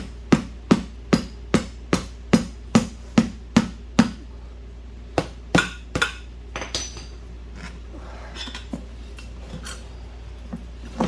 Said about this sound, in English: Get me a hammer.